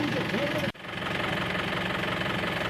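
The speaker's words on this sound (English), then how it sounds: "I don't know why the canter driver is not shutting off the engines" An idling canter safari vehicle engine at Ranthambhore runs with a steady, low, rhythmic rumble, briefly dipping after a sharp knock and then resuming its even chug.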